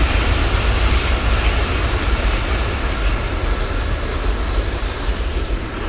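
A train rumbles steadily past close by, a loud continuous roar of wheels and cars with faint clattering, filling the whole stretch without pause.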